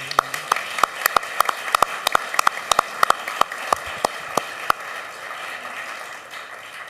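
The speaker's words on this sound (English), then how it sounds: "that deserves another round of applause" Scattered applause at a Germantown Board of Mayor and Aldermen meeting, a small number of people clapping in sharp, distinct claps that thin out and stop after a few seconds in a quiet room.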